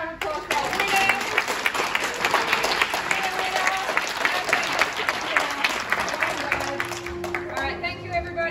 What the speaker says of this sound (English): another round of applause for our winners